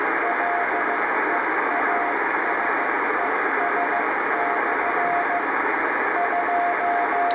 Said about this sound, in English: So the first bottom part of the band will be typically Morse code signals